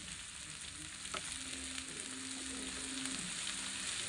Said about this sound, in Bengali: হাই ফ্লেমে কিছুক্ষণ এটাকে ভেজে নেব।